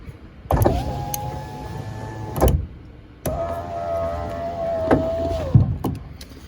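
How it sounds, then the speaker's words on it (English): A power window motor in a white 2004 Ford F150 FX4 truck whirs twice, each run lasting about two seconds with a steady hum and a clunk at start and stop, close up with no talking. "when I roll the window down and then it won't go up"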